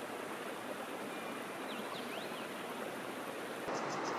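A river near Bagana in Bhutan rushes steadily as broadband water noise that stays loud and unbroken throughout, with a few faint bird chirps over the flow and a slight swell near the end.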